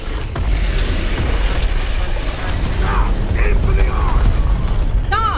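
Rocket explosions in a Gears of War firefight boom over a dense, continuous low rumble of game combat, with overlapping blasts and mechanical clatter throughout and brief voice-like chatter in the mix.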